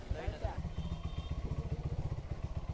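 Motorbike engine running while riding toward the upper market area, a steady low throbbing pulse near and loud throughout, with faint background clatter.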